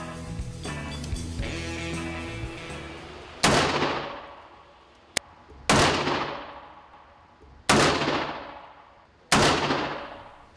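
Gunfire from a homemade assault rifle, with a few single loud shots cracking out alone at spaced intervals, each decaying with a long echoing tail after an initial stretch of steady background noise.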